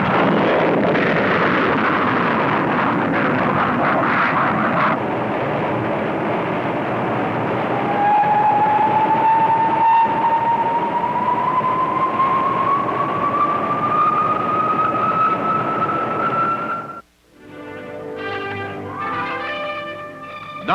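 A Corporal missile launches with a loud, sustained rocket engine roar that holds steady and then cuts off abruptly. A rising whine sounds above the roar near the end, and a quieter mechanical rumble follows.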